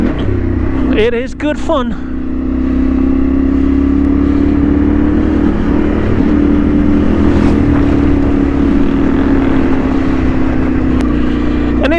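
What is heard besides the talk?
off-road trail motorcycle engine revving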